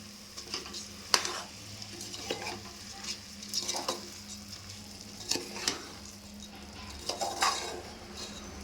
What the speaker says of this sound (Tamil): சேர்த்து இந்த அரிசி இந்த காயோடு நல்லா எல்லா மசாலாலாம் பரவுற மாதிரி கலந்து விட்டுக்கலாம்